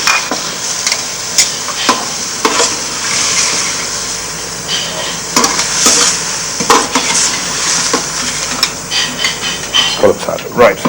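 Scallops cook in a pan with a splash of white wine and fish stock, giving a steady loud sizzle with scraping and clinks of utensils throughout, while a voice talks over it.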